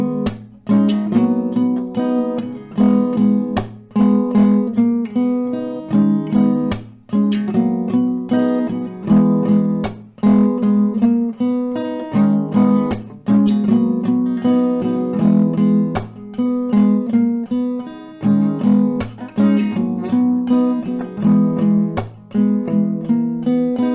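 Acoustic guitar strummed with short, tight downstrokes in a steady driving rhythm, a lesson demonstration of a song played loud and close for about twenty seconds with no talking.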